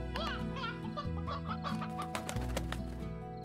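Chickens in the video game Slime Rancher cluck in quick, close repeated bursts over a steady musical background.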